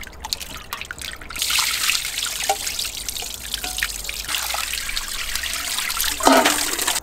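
Clean water runs and splashes steadily over sliced beef as it is rinsed by hand, a continuous close trickle with occasional louder sloshes.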